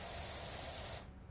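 A power washer sprays in a steady, loud, hissing rush, then cuts off abruptly near the end.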